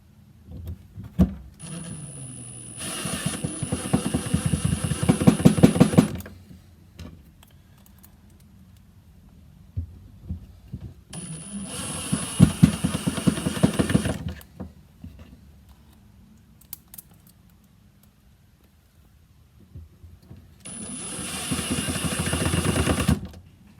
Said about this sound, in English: I have my impact driver on its lowest torque setting